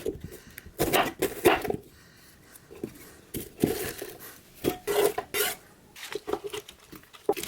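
Knife chopping a peeled, halved onion on a cutting board, heard as bursts of quick, fairly close taps and knocks separated by short pauses.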